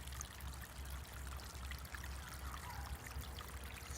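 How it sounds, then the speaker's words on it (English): A small stream of water running through a quiet neighborhood trickles and pours continuously, faint and low, with a steady rushing wash and no voices. "It's like a little stream."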